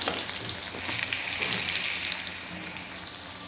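Garlic and sliced onion fry in a pan for a Chhattisgarhi kukri saag, giving a steady, close sizzle and crackle that holds at an even level throughout with no voices over it.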